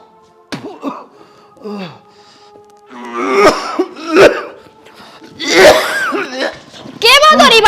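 Several harsh coughs come in uneven bursts amid voices speaking, close and moderately loud.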